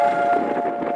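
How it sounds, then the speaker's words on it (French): Air raid sirens sounding across Jerusalem for Holocaust remembrance day, a steady sustained wail held at one pitch, loud and continuous for the whole moment. "à Jérusalem, le temps s'arrête quand retentissent les sirènes"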